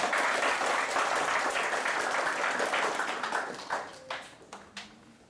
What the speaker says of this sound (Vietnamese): Thầy xin quý vị một tràng pháo tay.